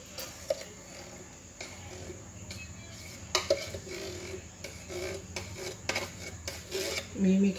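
Coconut milk and condensed milk being mixed in a bowl for homemade ice candy, with soft scraping and rubbing of a utensil and occasional clinks against the container, close and fairly quiet.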